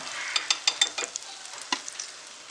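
Paneer balls fry gently over a low flame with a soft, steady sizzle, broken by a run of small crisp clicks and taps from the pan early on.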